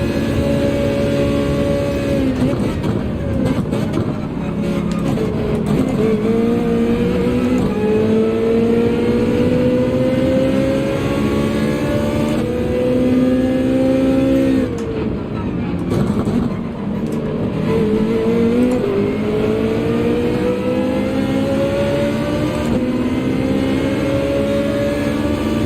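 Ferrari race car engine in Gran Turismo 7, loud and continuous, revving and climbing through gears with pitch rising and dipping between shifts, a sustained high-revving whine throughout.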